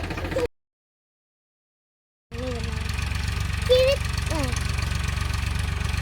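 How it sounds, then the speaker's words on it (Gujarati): A tractor engine chugs closer across a farm field where potatoes are being planted, a low mid-pitched idling drone that cuts out briefly, then returns steady and moderately loud, with a voice heard over it. "ટ્રેક્ટર આવી રહ્યું છે"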